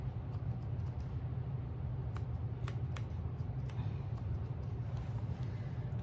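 Onyx Peacock mini scissors trim fur on a dog's foot: quick, light snips come in small irregular bursts over a steady, fairly loud background hum.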